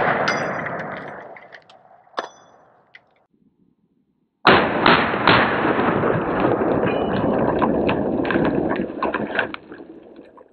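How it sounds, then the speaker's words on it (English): A machine gun fires at a body armor target outdoors: loud blasts ring out, then a pause, then a long sustained stretch of rapid fire. "And this, of course, is a machine gun, so we'll see if we can keep two on it."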